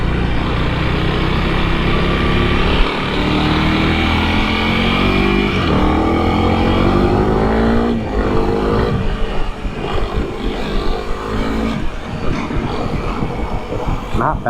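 Steady engine drone and wind roar from a 2021 Honda CRF300L dual-sport motorcycle ridden on open roads, with engine pitch rising and falling through gear changes, loud and continuous throughout.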